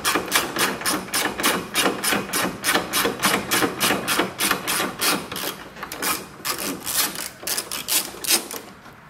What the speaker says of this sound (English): We'll take this top bolt off.